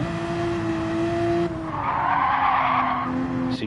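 A race car in a Group 3 racing video game slides and skids with a sustained tire squeal over a steady engine drone, loud and close for several seconds.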